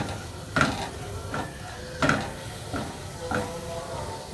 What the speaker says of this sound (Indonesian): Ini kita tumis bawang bombaynya menggunakan air yang mendidih ini sampai mengeluarkan aroma wangi dari bawang bombay.